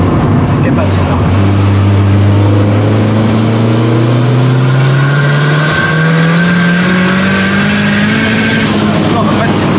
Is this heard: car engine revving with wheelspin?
yes